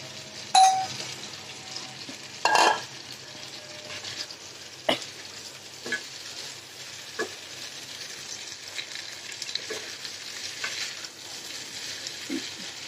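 Tomatoes stir-fried with fried eggplant and boiled-then-fried potatoes in a pan, a soft steady sizzle broken by a few sharp metal clangs of a spatula against the pot, close and clear with no talk.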